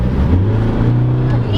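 A 2022 Mazda BT-50 pickup with a 3.0L engine and automatic transmission revs up loudly on kick-down, the engine note climbing as the gear drops, heard from inside the cab under speech.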